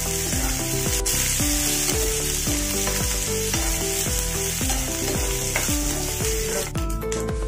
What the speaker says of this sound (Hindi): अब इसमें हम प्याज डालेंगे बारीक कटी हुई। अच्छे से मिक्स करेंगे।